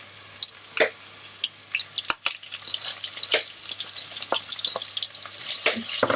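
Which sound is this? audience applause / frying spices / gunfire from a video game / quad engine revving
frying spices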